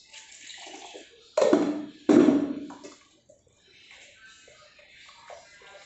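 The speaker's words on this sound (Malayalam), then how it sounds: "കുറച്ച് വെള്ളം കൂടെ മിക്സി കഴുകി" Water rinsed from a mixer jar is poured into a pot of fish curry in a home kitchen, two short splashing pours close by, with quiet handling noises in between.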